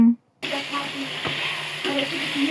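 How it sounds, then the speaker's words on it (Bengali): Onions fry in oil in a home kitchen pan, a steady close crackling sizzle that starts after a brief pause and continues evenly, with faint clinks of stirring. "এখানে পেঁয়াজ ভাজছি"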